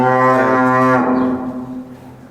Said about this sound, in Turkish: Bunlar inek yani.